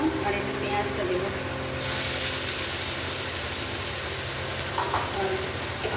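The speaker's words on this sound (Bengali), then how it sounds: "এবার তেলে একটু গোটা জিরে ফোড়ন করলাম" Whole cumin seeds crackle and sizzle in hot oil in a home kitchen, a steady dense frying hiss filling the whole stretch with faint background voices and small clatters underneath.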